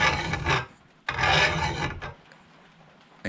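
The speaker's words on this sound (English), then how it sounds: "That's doing it by hand with a file." A hand file rasps in two long strokes along a lawn mower blade as it is sharpened, each stroke a close, gritty scrape followed by quiet.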